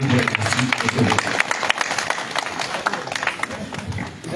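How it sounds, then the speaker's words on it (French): Applause from an audience at a UFDG party congress, a dense crowd of clapping close by, heard under someone talking over a microphone. "Est-ce qu'on peut l'applaudir encore une fois de plus, s'il vous plaît?"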